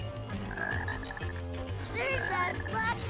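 A black frog in the Sonic Heroes rainforest stage gives repeated bubbly, pulsing croaks over low game music, two bursts in quick succession.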